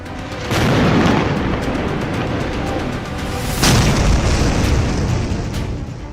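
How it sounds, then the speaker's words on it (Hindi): Bunker buster bomb explosions: two deep, heavy booms a few seconds apart, each followed by a long rumbling roar that fills the low end. "ऐसे मिशन में अमेरिका के ही बंकर बस्टर बम इस्तेमाल किए गए हैं।"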